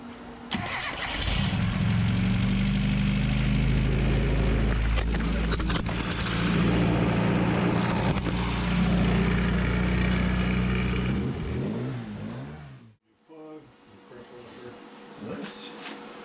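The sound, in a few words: car engine cranking and revving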